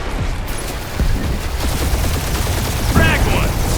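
Rapid gunfire from a space dogfight in the game Guardians of the Galaxy, dense bursts of shots and booms layered over a busy battle din, loud and close, with game voices breaking through.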